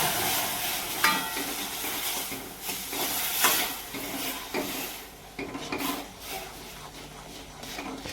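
Roasted semolina being stirred into boiling water in a pan for ghee sheera, close scraping and clinking of a utensil against the pot over a soft bubbling hiss, uneven in rhythm.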